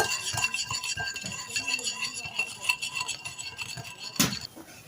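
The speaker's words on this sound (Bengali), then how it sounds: "এই চিনিটা এখন আমি ভালোভাবে এই কমলার রসের সঙ্গে মিশিয়ে নেব" Sugar being stirred into orange juice in a bowl for an eggless cake batter, a spoon clinking and scraping rhythmically against the bowl, close and steady, with one sharper knock near the end.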